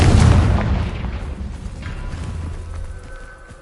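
A Confringo explosion spell goes off in the Hogwarts Legacy video game as a single loud boom that decays into a rumbling tail with faint crackles.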